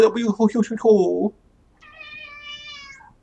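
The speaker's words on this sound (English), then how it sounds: "You hear that meow?" A person talks briefly, then after a short pause a cat gives one long, drawn-out meow at moderate loudness.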